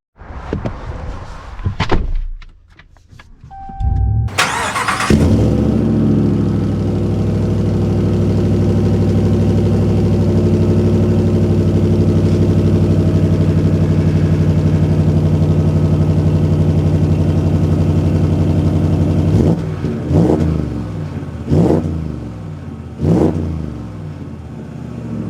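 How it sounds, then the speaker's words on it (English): A Hennessey Mammoth 400 Ram truck starts with a door thump and short bursts, then its engine settles into a loud, steady near drone for about fifteen seconds before a few sharp revs near the end. "Well, let us set off in this crazy Ram."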